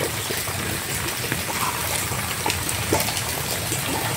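Floodwater swirling around a house and rising halfway up its walls, a steady close rushing and trickling flow of water heard alone without talk.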